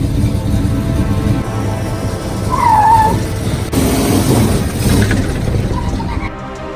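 A 1979 Ford F250 on 12-inch spacers and 24-inch wide slicks spinning its tires on pavement, a loud continuous engine roar with a squealing tire note, dropping off abruptly at the end.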